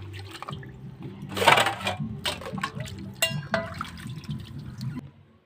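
Dishes being washed by hand with water, with splashing, trickling and clinks of metal utensils in irregular bursts nearby, fading near the end.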